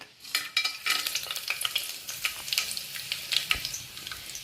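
Cinnamon bark, peanuts, bay leaf and fennel seeds hit hot oil in a pan for a long-bean rice dish. They sizzle and crackle close up in uneven bursts, with stirring scrapes and no talk.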